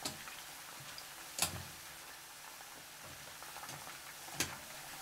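Noodles fry in vegetable oil heated to 170 degrees Celsius, giving a faint, steady sizzling hiss with a couple of sharp clicks or taps standing out along the way.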